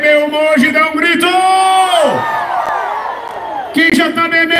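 Crowd at a square reopening party in Barretos, Brazil, letting out a loud collective shout and whoops, swelling and then trailing off, with an amplified voice over the noise.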